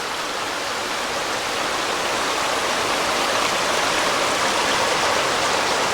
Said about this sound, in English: All kinds of water flowing out of the hillside here.